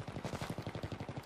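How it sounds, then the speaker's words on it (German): Distant automatic gunfire in a Battlefield 3 multiplayer match: a rapid, steady string of shots repeating evenly without a break. "Ja, da vorne wird schon geballert."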